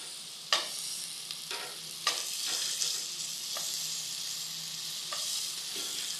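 Spices and tomatoes sizzling and frying in a pan during home cooking, with a steady hiss broken by several sharp clinks and scrapes of stirring, close and moderately quiet.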